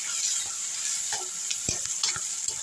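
Chopped ripe tomato with turmeric sautés in hot oil, giving a steady sizzle with scattered soft scrapes and taps of a spoon stirring the pan, close and alone with no voices.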